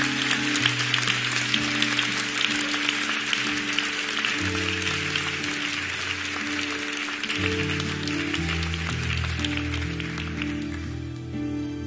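Church congregation applauding in worship, sustained dense clapping for about twelve seconds, loud and continuous with music or voices underneath.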